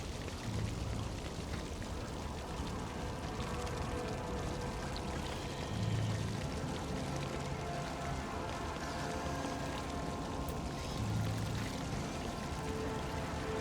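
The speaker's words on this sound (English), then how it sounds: "Glinting in the light, the coin falls into the clear water and sinks to the bottom." Water in a Warhammer 40,000: Rogue Trader game scene, a steady pouring, stream-like flow with small splashes that runs continuously under ambient game sound, without speech.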